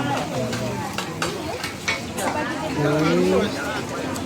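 Egg frying and being stirred in a pan aboard a boat at a floating market, a steady close sizzle with scraping stir strokes, while people talk over it.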